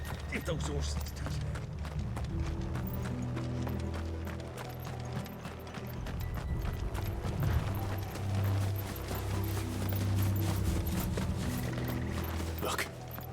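Horses' hooves clip-clop steadily in a Final Fantasy video game, a continuous walking rhythm under a low droning music bed with voices talking over it.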